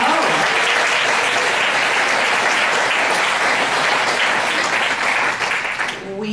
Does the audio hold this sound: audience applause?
yes